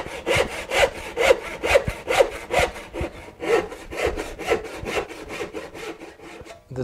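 A Bont Japanese-style hand saw cuts dovetail pins in wood, giving a steady run of close, rhythmic rasping strokes, about two per second, with no voices.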